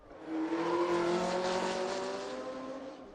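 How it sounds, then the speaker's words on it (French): A 1968 Porsche 908 race car at Le Mans Classic roars past at close range, its engine note a loud sustained drone that swells and slowly fades as it drives away. "Une Porsche 908 de 1968 bien maîtrisée au Dunlop."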